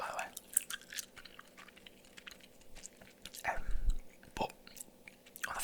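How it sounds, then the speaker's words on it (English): Gum being chewed close to the microphone, soft wet clicks and smacks coming in irregular bursts, with quiet low breathing between them. "This chewing gum's great, by the way."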